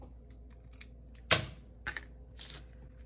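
Scissors snip a paper planner sticker in half: one sharp, close cut stands out clearly, followed by a couple of softer paper clicks and rustles in a quiet room.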